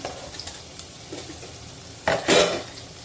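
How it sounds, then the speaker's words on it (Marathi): Turmeric and red chilli powder sautéed on low heat in a pan for a spicy Agri-style fish roe curry, quiet clinks of a spoon against the pot, then a louder scraping stir with a brief sizzle. "अर्धा चमचा हळद दीड चमचा लाल तिखट मसाल्यातून सुवास बाहेर पडेसपर्यंत परतून घ्यायचे आहेत"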